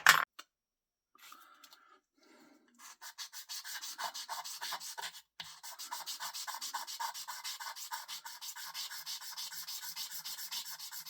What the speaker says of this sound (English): I will be polishing that now with some sandpaper.